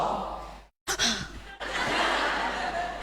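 A group exhales together during a breathing exercise at a public-speaking session, a broad breathy whoosh of many people letting out air at once, sustained and close after a short silent gap.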